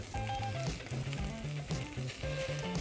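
Steady, close sizzling and crackling of vegetables frying in a saucepan, with soft clinks and stirring sounds, and no talking.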